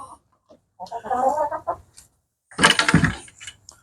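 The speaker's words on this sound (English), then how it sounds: "There's a chicken in here laying an egg." Hen in a garden coop clucking while laying an egg, two loud bursts of squawking clucks separated by a short pause, close and clear with no talk.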